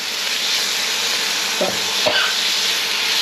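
Pork belly stir-frying in a Teflon pan, with a steady, loud sizzle and hiss and a couple of brief scraping stirs partway through.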